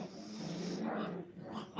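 Five-week-old puppies in a training kennel play-fight, with one pup growling and yapping loudly in a short, close, continuous burst of rough little barks and growls.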